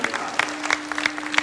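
Loud clapping from a group of children at a Gaura Purnima gathering, with dense irregular claps and a steady tone humming underneath.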